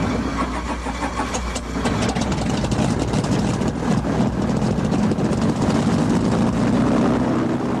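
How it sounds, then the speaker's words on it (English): Propeller engine of a Lake Aircraft Seawolf amphibious plane runs steadily with a loud, continuous droning roar and no voices. "Lake Aircraft presents Seawolf, a multi-role, multi-mission amphibious aircraft"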